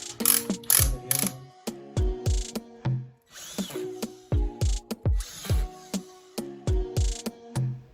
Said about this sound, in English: The lights come with two small side screws that you screw into the bracket to keep them in place.